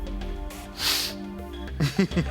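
A voice imitates a sharp sniff, a short breathy snort through the nose, followed by a bit of speech, on a French TV game show.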